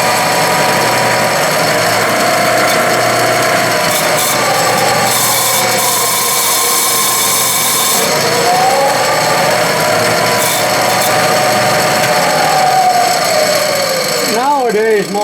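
A Clausing lathe's hydraulic variable speed drive runs noisily with a constant rough grinding hum, while a whine slides up and down in pitch as the speed changes, ending with quick warbling sweeps.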